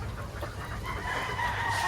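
Young pullet chickens cluck and call in a pen, several birds close by, with overlapping short clucks and a rising crow-like call toward the end, no talking.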